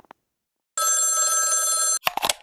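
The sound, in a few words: telephone ringing in radio drama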